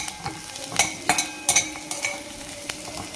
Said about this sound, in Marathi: दोन तेजपान घालायचे आहेत पाच ते सहा आपल्याला काजू घालायचे आहेत